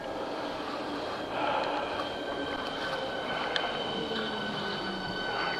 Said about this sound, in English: Charing Cross train.